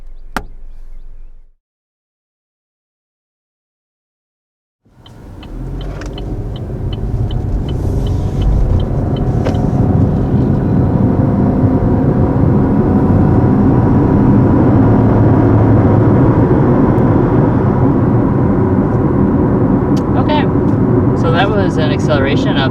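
A 2021 Chevy Trailblazer accelerates hard up to 60 mph, heard from inside the cabin. After a short burst of talk and a moment of silence, engine and road noise rise quickly and hold at a loud, steady drone.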